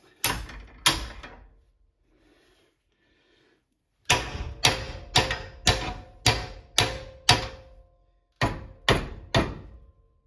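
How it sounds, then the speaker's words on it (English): Wood being split in a workshop while a stuck tool handle is worked free: two sharp impacts, a pause, then a rapid series of about six loud, close blows, a short gap, and three more strikes. "Now I split the wood more."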